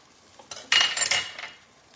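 A tablespoon of Grey Poupon brown mustard goes into a pan for beef stroganoff, with a short close burst of metal utensil clinks and scraping against cookware.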